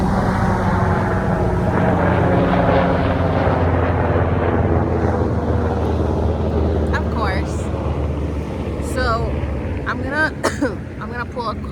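A helicopter drones overhead as a broad, steady rumble that slowly fades, while a person talks over it in the later part.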